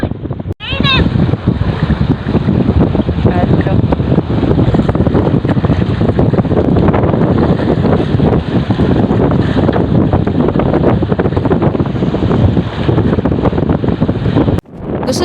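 Strong wind roars across the microphone at the seashore with crashing waves, a loud continuous rush filling the whole stretch with no pauses.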